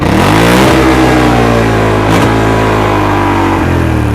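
A loud, close 2020 Polaris Sportsman XP 1000 S ATV engine revs steadily, its stock exhaust roaring with a few brief throttle dips.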